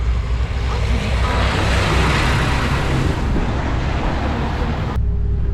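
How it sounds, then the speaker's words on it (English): A big truck passes at a dump, a loud, steady broadband roar of engine and tire noise close by that holds for about five seconds and then cuts off abruptly. "Y'all saw that big truck."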